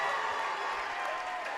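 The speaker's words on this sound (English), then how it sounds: "a loud round of applause" Crowd applause in a gym at a high school girls' basketball championship as players receive medals, a dense continuous roar of clapping and crowd noise at steady volume.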